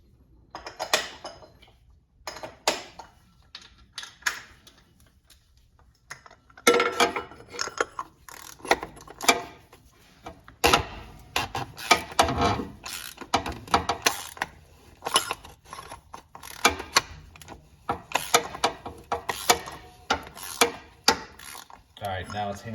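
A ratchet loosens the oil filter housing on a Porsche 981 GT4 during an oil change, with bursts of quick, close pawl clicking and metallic rattles that grow busier and louder partway through.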